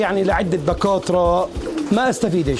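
English pouter pigeons cooing close by, several throaty warbling coos rising and falling over someone talking steadily throughout.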